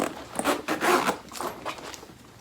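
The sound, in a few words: zipper opening a black velour travel bag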